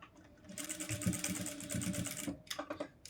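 A sewing machine stitching the shoulder seam of a blouse runs in a steady rapid mechanical whir, close and fairly loud, pausing briefly before a short final burst.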